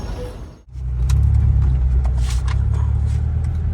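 A Honda Civic FD on a highway road trip, its steady low engine and road rumble building as the car pulls away and settling into a continuous cabin drone.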